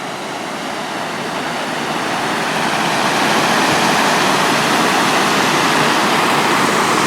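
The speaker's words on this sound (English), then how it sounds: "Let's have a look at the waterfall." Water pours steadily over an old mill weir as a broad, loud, continuous rushing roar that swells slightly after a few seconds, with no voices.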